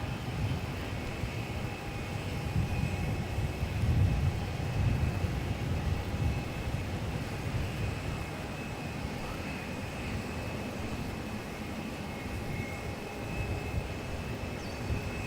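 A Qatar airliner taxies at Melbourne Airport, heard as a steady, distant engine rumble and whine that holds on throughout.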